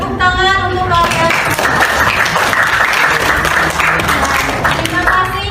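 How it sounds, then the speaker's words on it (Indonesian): A classroom of students claps together in a sustained burst of applause, dense and fairly loud, with children's voices mixed in throughout. "Tepuk tangan untuk kalian"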